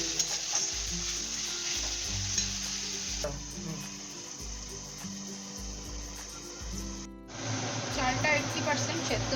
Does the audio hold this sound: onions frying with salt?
yes